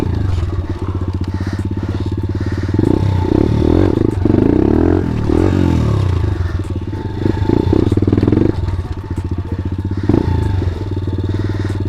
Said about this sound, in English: Okay, rev it up, foot brake.